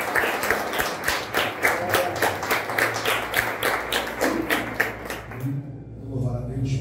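Church congregation clapping in steady rhythm, loud close claps repeating about twice a second for several seconds before stopping, with a voice over the clapping and a brief voice after it fades.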